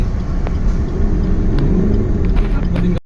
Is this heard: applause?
no